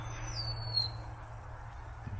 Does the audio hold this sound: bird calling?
yes